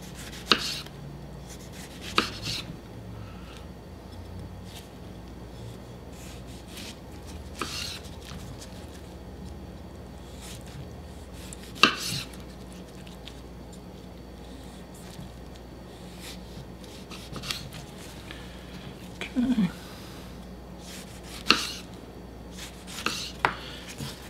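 A knife slicing a tomato thin on a cutting board: sparse, soft taps and cuts spread out over a quiet background, close by, with no talking.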